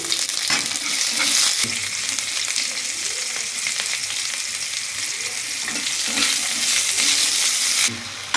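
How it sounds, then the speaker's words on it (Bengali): Chopped tomatoes sizzle in a pan over a tempering of dried chilli and garlic for sambar, with a loud continuous frying hiss and the repeated scrape of a spoon stirring close by. "এবার ওখানে টমেটো কুচিগুলো দিয়ে দিচ্ছি"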